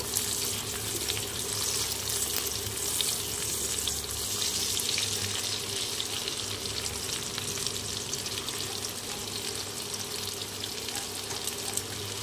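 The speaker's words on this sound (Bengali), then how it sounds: "কেটে রাখা আলু, এবারে আমি একটু নাড়িয়ে নেব" Chopped potatoes and onions fry in a pan with a loud, steady sizzle lasting throughout, with occasional faint stirring scrapes and no talk.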